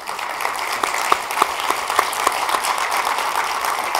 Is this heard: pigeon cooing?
no